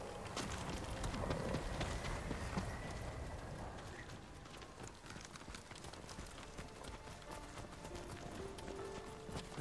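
Horses trot through the open world of the game Ghost of Tsushima, a steady clip-clop of hooves under a dense wash of outdoor ambience and wind that stays fairly loud throughout.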